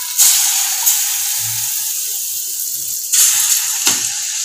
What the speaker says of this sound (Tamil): எண்ணெய் நல்லா காயட்டும். கடாய் நல்லா காய்ஞ்சிச்சுங்க. இப்போ நம்ம கரைச்சி வச்சுருக்க மாவை குட்டி குட்டியாக போட்டுக்கலாம்.